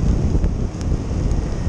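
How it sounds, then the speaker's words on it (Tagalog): Strong wind buffets the microphone in a continuous loud roar with gusting surges, under an overcast sky with light drizzle. "Yung lakas ng hangin."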